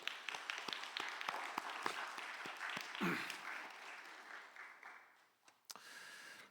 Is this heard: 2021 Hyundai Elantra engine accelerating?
no